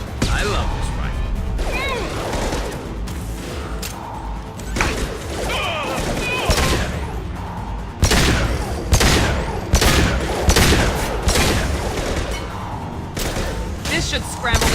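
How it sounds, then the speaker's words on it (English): Rapid rifle gunfire and explosive impacts in the sci-fi shooter Mass Effect 2, loud dense bursts and crashes running continuously throughout with brief voices mixed in. "I love this rifle."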